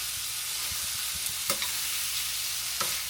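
Food sizzles steadily in a frying pan as it is shifted around on an uneven stovetop, with a few light scrapes and knocks of metal tongs or pan over a continuous hiss, no voices.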